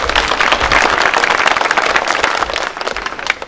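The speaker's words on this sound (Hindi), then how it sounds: "जोरदार ताली बजा के उनका स्वागत करें" A crowd at a national unity gathering claps loudly to welcome guests, dense steady applause that thins slightly toward the end.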